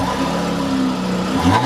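A 2014 Chrysler 300C AWD with its V6 engine revving hard on the road, a steady loud mid-pitched engine drone with a rising whine toward the end, heard alone and close.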